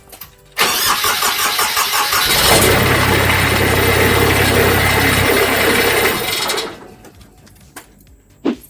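A Kubota D1105 diesel engine starts after a starter repair: the starter cranks briefly, the engine catches with a loud rattling roar and runs steadily for several seconds, then shuts off and winds down into quiet.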